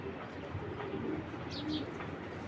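Low, muffled pigeon cooing in a noisy, busy setting, with a couple of brief higher chirps partway through.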